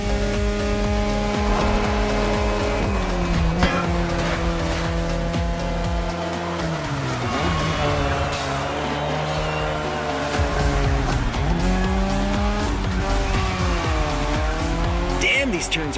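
Tire squeal from a Mazda sports car drifting through sharp turns in The Crew Motorfest racing game, a loud continuous engine drone with sliding pitch sweeps and screeching tires, with talk over the top.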